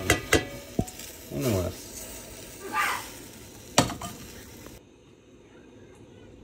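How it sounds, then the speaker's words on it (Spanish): Chicken and chipotle sauce land in a hot frying pan and sizzle. A few utensil clinks and stirring scrapes ring out near the pan, and a brief voice speaks before the sound thins to a quiet fizz. "Ya que esté frito, le vamos a agregar nuestro pollito y la salsita"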